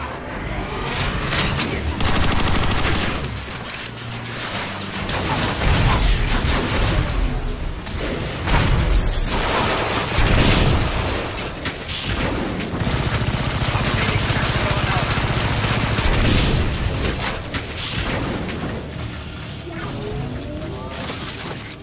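Turrets firing in the video game Transformers: Rise of the Dark Spark, loud repeated blasts and mechanical bursts in pulsing clusters over a busy game soundscape, with a voice speaking at points.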